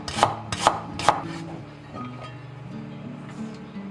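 A knife slices unpeeled ginger on a cutting board for a perilla beer duck dish: three sharp, evenly spaced chops close up, then quieter low kitchen rumble.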